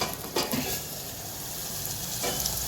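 Onion and tomato sizzle steadily while sautéing in a pan for a masala dish, a continuous close frying hiss with a couple of soft stirring scrapes near the start and end, no voices.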